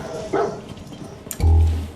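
A dog in the video game Fallout 4 gives a short bark, then a louder, deeper bark or woof a second later, close by over a quiet game background.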